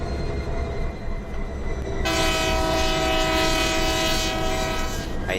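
A BNSF diesel locomotive in the Trainz 19 simulator hauling coal: a low rumbling engine drone, then a loud, sustained multi-tone horn blast from about two seconds to the end.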